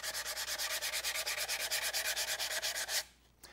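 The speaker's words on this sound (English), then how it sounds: "So you'll want to sand those smooth." Sandpaper rubs back and forth over a dried finish on wood in quick, even strokes, about six per second, close up and steady for three seconds before stopping, with no talking.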